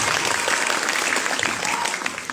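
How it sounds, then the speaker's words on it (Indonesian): A school audience applauds at a student council (OSIS and MPK) candidate final at SMPN 3 Amlapura, with dense, steady clapping that fills the whole stretch and tapers slightly at the end. "Luar biasa, tepuk tangan."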